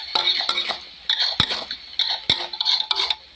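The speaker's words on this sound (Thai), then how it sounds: "ผัดคลุกเข้าให้เข้ากันค่ะ" Food is stir-fried in a pan, with a spatula clattering and scraping against metal in quick irregular strokes, close and fairly loud, over a faint sizzle.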